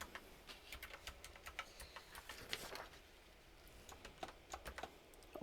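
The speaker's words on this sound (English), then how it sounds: "I'm typing slow today apparently." Someone types on a computer keyboard in uneven bursts of soft clicks, with short pauses between runs of keys. The room is quiet, the clicks are faint to moderate, and nobody speaks.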